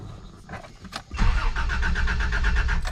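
Toyota Land Cruiser, just tuned up with new spark plugs and filters, cranks briefly, then its engine catches and settles into a loud, steady idle close by, no talk.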